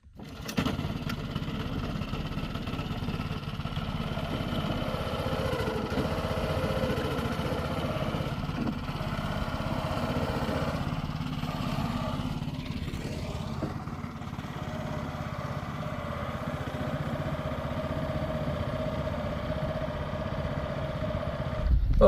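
A boat engine runs steadily on a backwater, a continuous mid-pitched droning chug that holds even and close for the whole stretch, with a slight rise at the very end.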